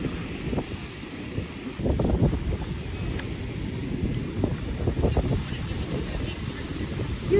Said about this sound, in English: It's windy. Very windy. It's always windy on the beach.